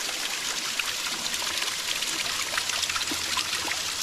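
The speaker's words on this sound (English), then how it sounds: "You got the water. It appears it's coming right out of the rock." Spring water runs out of rock at Frankfurt Mineral Springs, a close, steady trickle and splash that carries on unbroken with no voices.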